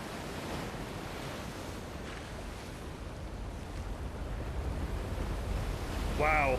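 Rushing floodwater pours into a valley after a dam closes in Jade Empire, a broad roaring wash of water that swells gradually louder, with a brief whistling tone near the end.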